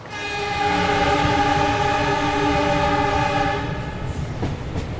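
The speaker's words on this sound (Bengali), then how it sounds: "ট্রেন ছুটছে।" A train rolls steadily along with a sustained tonal whine and rumble, loud and continuous, easing off slightly toward the end.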